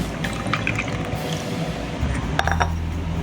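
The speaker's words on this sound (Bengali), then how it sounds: "এটা একটা ছাঁকনি দিয়েছি ছেঁকে নিতে হবে খুব ভালো করে ছেঁকে নিতে হবে" Caramel pudding mixture made with eggs is poured through a strainer, giving a steady near liquid pour and trickle with a few faint clinks of utensils, no voices.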